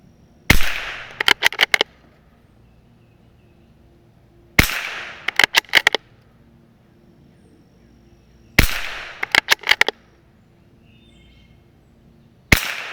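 Gunshots at a shooting range ring out in four groups, each a sharp loud crack followed by a quick burst of three or four more shots, separated by quiet gaps of a few seconds, with no talk.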